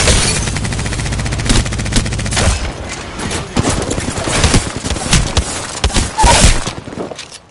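Rapid automatic weapon fire in Apex Legends arena combat, a fast rattling burst up front followed by scattered single shots, impacts and booms, loud and close, with no talking over it.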